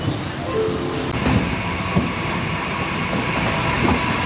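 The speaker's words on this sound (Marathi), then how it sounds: "ट्रेन आपली ट्रॅक चेंज करते, लूप लाईनवर येते." A Virar–Dahanu suburban local train rolls in a steady rumble as it crosses points onto the loop line approaching Dahanu Road, with faint clicks from wheels over the switches throughout.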